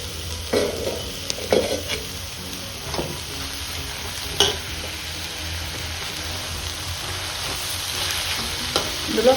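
Sliced onions with chili powder frying in a pan for a bean and dry fish curry, a soft continuous sizzle broken by scraping stirs and occasional louder clatters of the spoon, with no talk.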